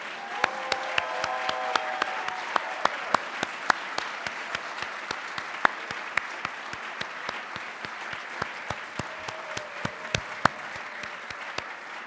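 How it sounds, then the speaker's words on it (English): An awards-ceremony audience at the Chicago Silver Circle Honors keeps up a long, even round of applause, a broad wash of clapping with a few sharp, distinct claps standing out on top. "let's have one more round of applause for all of tonight's honorees"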